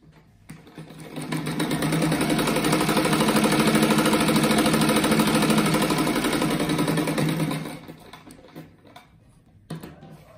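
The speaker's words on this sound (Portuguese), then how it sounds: "Esse primeiro aqui eu vou costurar os dois lados" Sewing machine stitching fabric strips for a patchwork placemat, a fast steady mechanical whirr with rapid needle clatter that starts, runs continuously for several seconds, then stops, followed by a few faint clicks.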